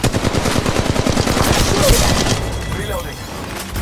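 Rapid automatic gunfire in Apex Legends Mobile, loud and close, a fast rattling burst for about two seconds that then fades into quieter scattered shots and game noise.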